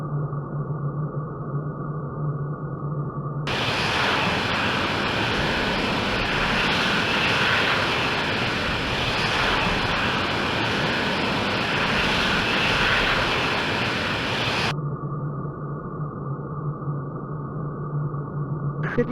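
An F-16 Falcon jet in the Falcon 4 flight simulator game throttles back while slowing toward landing, its engine giving a steady, loud broadband roar that swells through the middle and then drops back to a quieter hum.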